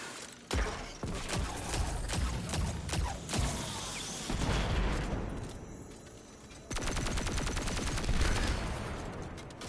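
Video game turrets fire in rapid volleys, loud bursts of rattling gunfire that start and stop in several runs, close and dense, with a short quieter stretch in the middle.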